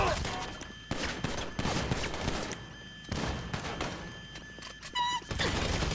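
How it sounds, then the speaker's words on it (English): Shotgun blasts in the game Grand Theft Auto Online, several loud bursts scattered through gameplay noise, with voices talking over them. "Go away with your fucking shotguns"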